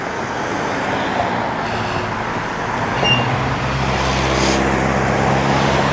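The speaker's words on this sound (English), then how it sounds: "there's a lot of cars coming down right now" Steady roar of many cars streaming past on a road during morning commuter traffic, close and continuous, swelling slightly as vehicles go by, with no speech.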